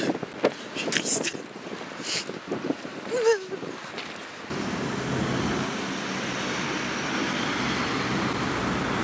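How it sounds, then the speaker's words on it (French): Strong wind blows outdoors on a cold day, first in gusty buffets under someone speaking French, then as a steady, loud roar of wind against the microphone that fills the rest of the clip. "Vous avez vu le vent qu'il y a?"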